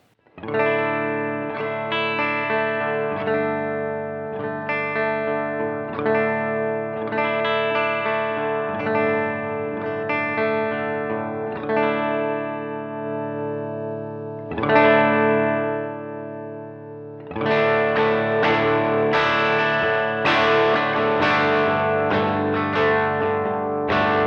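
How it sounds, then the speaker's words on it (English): An electric guitar plays driven, gritty chords and riffs through a Strymon Iridium amp modeler set to a Fender Tweed-style amp with boosted mids and more gain, crunchy in tone, pausing briefly before a louder, fuller strummed passage. "it changes into a Fender Tweed style amp with boosted mids and more gain"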